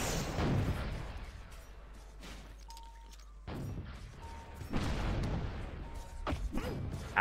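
A Roblox video game explosion and its shockwave crash and boom in bursts, with heavy low rumble dropping away mid-clip before more loud blasts follow.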